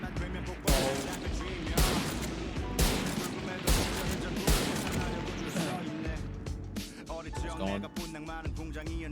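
Rapid bursts of video game gunfire repeat every second or so during strafe shooting practice, loud and close, with clattering echoes between the shots.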